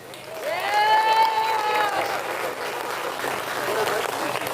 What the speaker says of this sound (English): big round of applause for Ken.